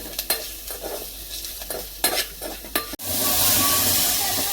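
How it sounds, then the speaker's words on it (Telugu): A spice powder of cumin, chilli and curry leaves fries in a pan. Spoon scrapes and clinks come first, then a sudden loud, steady, close sizzle takes over. No one talks. "దీన్ని పచ్చివాసన పోయేదాకా వేయించుకుందాం."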